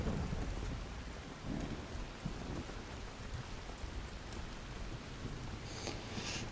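Steady rain and rumbling thunder in the survival video game Soulmask, a dense continuous downpour with low rolling rumbles throughout.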